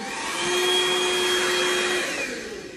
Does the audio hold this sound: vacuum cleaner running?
yes